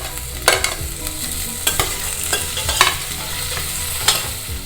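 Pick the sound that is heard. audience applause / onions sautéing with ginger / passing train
onions sautéing with ginger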